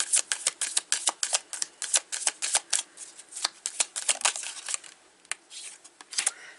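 Cards are handled and drawn from a deck at close range, making a quick, irregular series of crisp snaps and flicks with short pauses between them.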